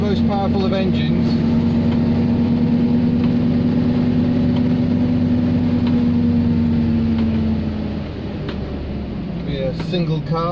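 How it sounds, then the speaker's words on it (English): Engine of a 1956 New Zealand-assembled Austin Cambridge A50, likely single-carburettor, droning steadily from inside the car while driving, loud and constant with a sustained hum that eases slightly near the end, under someone talking. "It's not the most powerful of engines."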